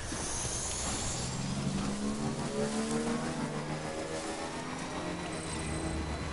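A motorbike engine ridden over open ground in a video game, a constant rough droning hum with faint tonal whine layered over broadband noise, steady and fairly close throughout.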